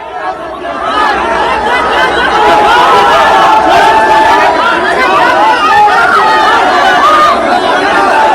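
A big crowd of supporters at Owaisi's election campaign in Bihar makes a loud, dense hubbub of overlapping voices and shouts that builds and holds steady throughout.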